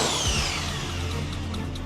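Loud, continuous mechanical grinding and hammering from a rotary hammer drill on jackhammer setting during bathroom demolition, running steadily throughout, with a dense rattling roar and no voices.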